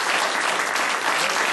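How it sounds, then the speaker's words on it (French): Village audience applauding in a dense, steady burst of clapping that fills the whole moment, fairly close and loud, with no talk over it. "vous bénéficiez, Marie, d'un non-lieu et des applaudissements du village."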